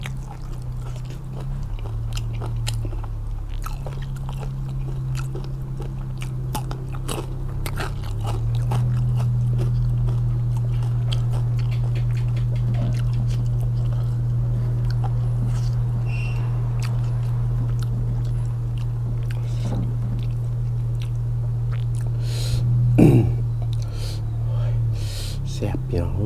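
Someone chews a mouthful of Thai stir-fried fatty beef with holy basil in soft, moist bites close to the microphone, with a low steady hum underneath and a sharper clink near the end.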